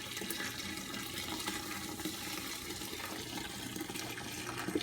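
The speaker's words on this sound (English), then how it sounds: "We are going to run it through the strainer." Homemade laundry detergent, a liquid made from melted soap, pours through a strainer in a steady, faint trickling stream with no voices.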